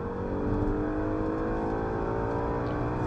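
An Audi RS5 lapping the Anglesey circuit, its engine droning with a steady, strong in-cabin hum and harmonic whir at constant pace, loud and close, with no talk over it.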